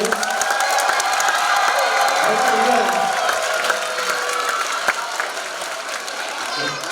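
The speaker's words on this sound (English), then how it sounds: "to decide which band was the best behaved in the audience, let's do by applause" Audience clapping and cheering at a school winter concert, a loud dense wash of hands with scattered whoops filling the whole stretch, steady and close throughout.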